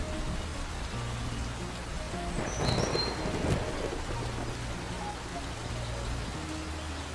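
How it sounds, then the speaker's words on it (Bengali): Steady rain falls with a low rumble of thunder in a cartoon storm scene, a continuous hiss with a soft swell in the middle, no voices heard. "এদিকে যে বৃষ্টি আমি ভিজে ভিজে তোমার বাড়ির কাছে আসলাম"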